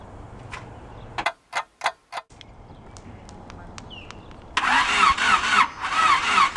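A rebuilt Honda VTEC engine cranks on its starter in a few sharp bursts, kicking back because it is out of time, followed by a loud, sustained whirring crank up close.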